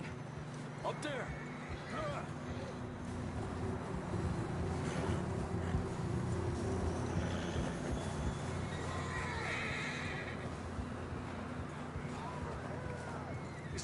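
A horse whinnies in Red Dead Redemption 2, with hoofbeats and a steady windy game ambience underneath; the neighing is moderately loud and stands out against the background bed.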